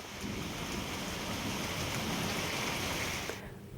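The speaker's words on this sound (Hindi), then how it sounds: "बारिश के कारण सड़कों पर पानी भर गया है, सड़कें जलमग्न हो गई हैं" Heavy rain pours steadily over flooded roads in Katni, a dense close hiss that holds at an even level for several seconds and then cuts off abruptly, with no voices.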